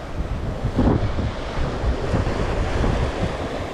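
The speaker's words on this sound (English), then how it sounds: "It's a little windy today." Steady wind gusts buffet the microphone on a beach at Playa del Carmen, with surf rumbling beneath in a continuous, fairly loud roar and no one speaking.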